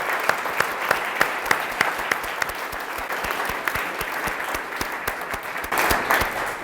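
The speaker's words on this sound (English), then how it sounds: "Let's give them another round of applause." Audience applause fills a hall at an anniversary symposium, a steady crowd clapping with some sharper nearby claps standing out, then swelling slightly louder near the end.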